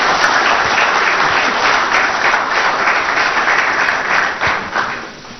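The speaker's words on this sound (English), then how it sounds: "Please, a round of applause for Mr." An audience at a distinguished speaker series on foreign direct investment welcomes a speaker with sustained, loud, close applause that gradually fades toward the end.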